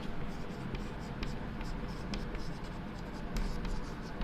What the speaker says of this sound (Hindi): लिख देता हूं मैं